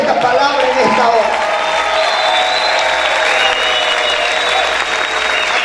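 A church congregation claps loudly and steadily in celebration, a dense wash of applause with crowd noise and voices mixed in, sustained without pause.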